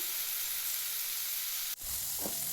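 Cauliflower (gobi) frying in a pan: a steady, hissing sizzle throughout, briefly interrupted by a short break before the crackling resumes.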